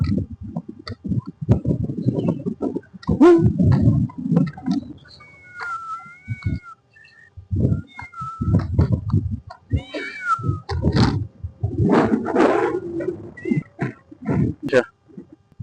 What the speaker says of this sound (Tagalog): Guys, pusa.